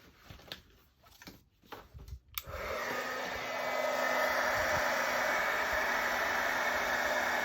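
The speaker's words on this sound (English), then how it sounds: "And get my heat gun." A heat gun blows steadily at a craft journal tag, starting abruptly after a few soft handling clicks and then running as a loud, continuous rushing whine to the end.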